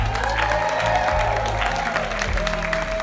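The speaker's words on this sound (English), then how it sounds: "Let's have a round of applause for the bride." Steady crowd applause at a wrestling event fills the space, dense and continuous with some cheering mixed in, loud throughout.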